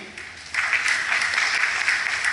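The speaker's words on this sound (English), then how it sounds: "can I hear a clap if you agree?" People at a meeting in Dili, East Timor clap together in agreement, a sudden burst of group clapping that starts after a brief pause and holds steady and fairly close.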